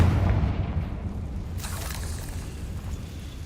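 A Confringo spell explosion in a Harry Potter video game, a deep booming blast that rolls off and fades over a few seconds, loud at first and then decaying.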